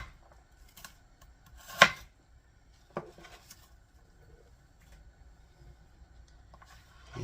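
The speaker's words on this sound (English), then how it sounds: "I'm not going to do real small slices, or small dices actually, just kind of bigger ones" A knife chops turkey into large dice on a board, giving a few sparse, faint knocks in an otherwise quiet kitchen, with one sharper thud standing out.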